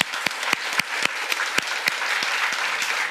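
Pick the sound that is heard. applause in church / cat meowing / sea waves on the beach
applause in church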